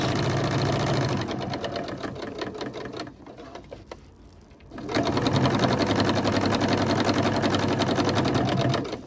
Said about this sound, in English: Put your foot back down and start sewing.